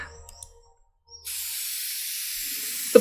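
A spray can hisses over a found coin to clean it in the video game Treasure Hunter Simulator, a sudden, steady, close aerosol hiss that starts after a short silence and runs for well over a second.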